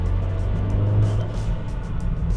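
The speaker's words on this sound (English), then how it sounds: "The car does sound great" Engine of a 500-horsepower VW Golf R, a steady, loud, low rumble with a deep drone that stays fairly constant, with no talking over it.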